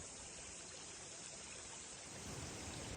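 A stream flowing beside a New Zealand walking track, a steady, dense rush of water close by with no voices, swelling slightly louder toward the end.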